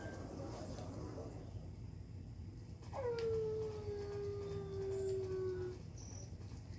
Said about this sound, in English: There's a dog somewhere.